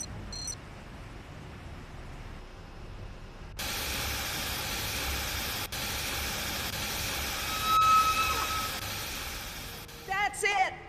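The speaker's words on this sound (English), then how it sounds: "The steam has been vented." In Jurassic Park: The Game, steam vents from pipes as a sudden steady, loud hiss that starts abruptly and holds for several seconds, with faint voices and electronic tones around it.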